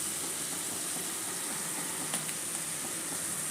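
Tomato chutney cooking in a pan, giving a steady, even sizzle and hiss throughout, with faint stirring underneath and no voices.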